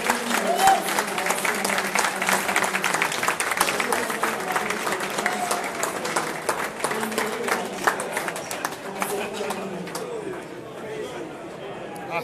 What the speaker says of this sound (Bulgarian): това ръкопляскане не знам защо беше